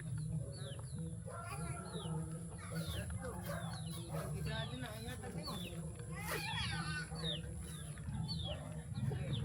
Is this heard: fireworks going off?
no